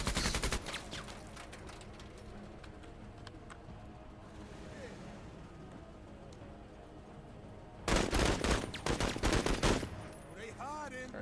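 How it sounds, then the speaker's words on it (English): Machine gun fire in a first-person shooter game crackles in dense rapid bursts, sustained early on and again in a loud burst later, with voices talking over the action. "That's okay, we have machine guns."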